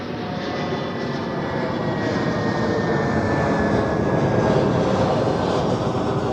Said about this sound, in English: And here we have an A319